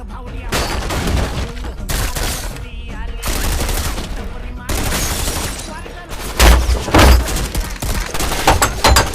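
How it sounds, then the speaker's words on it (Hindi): Bursts of rapid gunfire from a Bollywood film scene, shots fired through a door, with loud automatic volleys and heavy shots between brief pauses, amid music and effects. "अपने गन से दरवाजे के आर पार गोली चला देता है"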